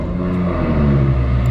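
A tuned 450bhp BMW M140i runs with a throaty, rumbling engine note that swells slightly toward the end, close and loud and steady throughout.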